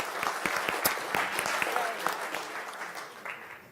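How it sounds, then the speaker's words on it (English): An audience at a student design awards ceremony applauds last year's winner, a loose patter of individual claps with distinct hand strikes, moderately close, tapering off toward the end. "Can I have a warm applause for the winner of last year?"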